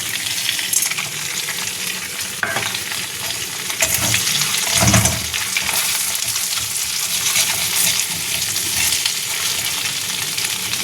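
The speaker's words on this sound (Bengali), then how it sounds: "আর ফোড়নে দেবো এই যে ছোট এলাচ ছোট এলাচ দালচিনি লবঙ্গ তেজপাতা" Whole cardamom, cinnamon, cloves and bay leaf tempering in hot mustard oil for a prawn malai curry, giving a steady close sizzle with a louder crackling burst midway as the spices hit the oil.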